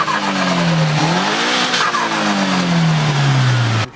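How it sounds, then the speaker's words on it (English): Mitsubishi Eclipse GST turbo with its blow-off valve capped, revving and fluttering loudly up close, a rising and falling engine tone with rapid turbo chatter between throttle lifts, no talk. "So Garrett actually capped off the blow-up valve. Now the car's fluttering like crazy."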